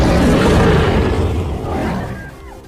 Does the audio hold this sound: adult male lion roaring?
yes